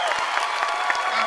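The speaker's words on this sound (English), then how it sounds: "Let's give a big round of applause." Applause from a gathered audience honoring military veterans and first responders, a dense sustained clatter of many hands with faint crowd murmur beneath.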